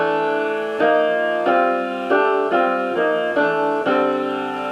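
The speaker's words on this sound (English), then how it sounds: "And so the chordal harmony is going to sound like this." Quartal chords stacked in fourths ring over a sustained E drone in a modal jazz style, struck about seven times in a steady rhythm, each chord swelling and then decaying before the next.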